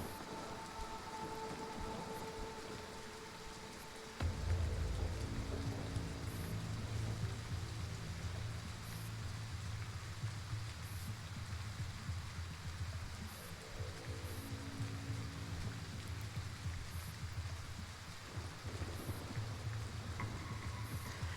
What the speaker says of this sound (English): The rains have stopped playing, but the sound keeps playing, so we're stuck with this for a bit.